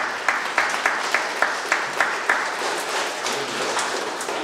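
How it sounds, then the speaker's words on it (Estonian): Audience at a village theatre festival in Tõstamaa claps in a steady burst of applause, with a few sharper, louder claps standing out near the front over the general crowd clatter. "Teeme talle ka ühe aplausi."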